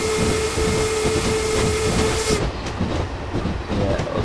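A locomotive from a train simulator on the Somerset Dorset Joint Railway runs along with a steady rumble and hiss, a tone holding in the background for the first half before the noise shifts and thins.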